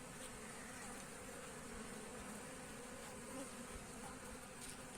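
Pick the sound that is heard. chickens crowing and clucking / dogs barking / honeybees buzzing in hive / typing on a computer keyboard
honeybees buzzing in hive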